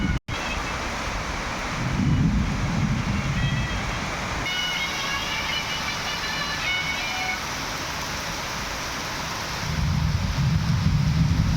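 Heavy rain of an early-season mango shower pours steadily for the whole stretch, a dense close hiss with low rumbling swells near the start and end that suggest distant thunder.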